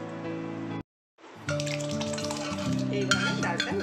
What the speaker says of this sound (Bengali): এবার কুকারে যে আমি ডাল সেদ্ধ করেছি, সেই ডালটা এবার আমি এইভাবে মিশিয়ে দেব।